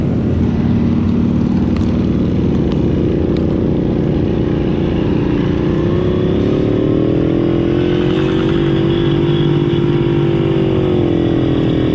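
An SSR Lazer 6 motorcycle engine drones loud and steady as it labors up a hill at the Mid-Ohio track, its pitch rising slightly partway through.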